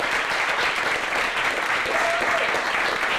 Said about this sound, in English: Let's give that sister a round of applause.